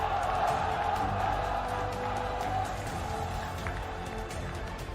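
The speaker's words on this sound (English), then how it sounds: "you can hear the crowd as well, how excited they are" A large crowd roars in a steady, distant wash of cheering and applause that stays loud throughout, at the PMCO esports finals.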